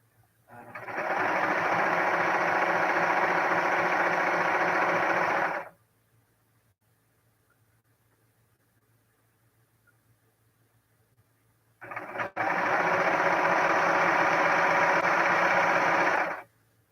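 A serger sewing machine stitching a jelly roll quilt top, two long bursts of fast, steady mechanical whirring separated by a quiet pause, close and loud.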